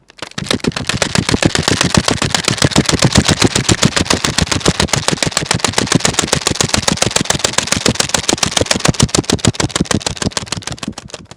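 A device imitates a fast-running autorickshaw engine with a loud, rapid, evenly spaced rattling pulse that keeps a steady beat for about ten seconds before trailing off, with no voices.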